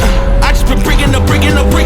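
Supercharged UTV engine revving and accelerating loudly and close, a steady mechanical roar with rising whine tones through the clip, at a UTV event.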